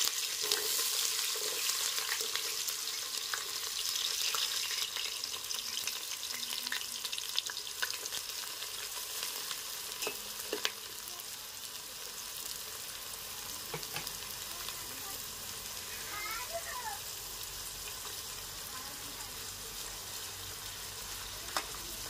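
Onions frying in oil in a pan for a Telugu fish curry, a steady close hiss of sizzling that runs the whole time with a few faint clicks of the spoon and no speech.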